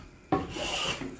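A single long stroke of a little Bailey hand plane shaving across a timber-framed table base, a sudden rasping swish that runs about a second.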